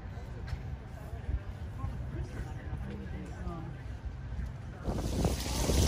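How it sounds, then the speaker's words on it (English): Wind blows steadily outdoors in Williamsburg, Virginia, buffeting the microphone, and gusts rise louder toward the end. "it is getting windy"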